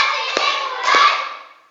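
Two sharp hand claps from children in a classroom, one then another about half a second apart, ringing briefly in the room.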